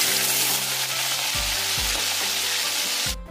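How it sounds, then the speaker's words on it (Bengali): Pieces of rui fish fry in hot oil, with a dense steady sizzle and several low bubbling surges, then a brief clatter near the end. "এবার বাকি মাছগুলো আমি ভেজে নিচ্ছি।"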